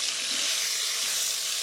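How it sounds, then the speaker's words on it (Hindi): Ginger garlic paste fries with chicken in a karahi over medium flame, giving a steady, fairly soft sizzle and hiss that continues without a break. "इसको थोड़ा देर हम भूनेंगे जिंजर गार्लिक पेस्ट के साथ"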